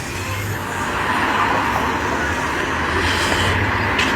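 Street traffic drones steadily, cars passing at a moderate distance with a low continuous rumble and faint hiss, no talk over it.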